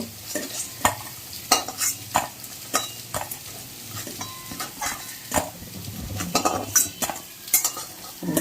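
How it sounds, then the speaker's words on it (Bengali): Fritters (bora) fry in a small amount of oil in a pan, a soft sizzle broken by sharp clinks and scrapes of a metal utensil stirring and turning them, close by, with no talking. "অল্প অল্প করে আমি ভেজে নেব বড়াগুলো।"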